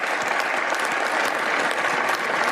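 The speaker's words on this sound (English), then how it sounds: "Oh, and then they applaud." A crowd in a video game applauds in a dense, even burst of clapping that holds at the same level from start to finish.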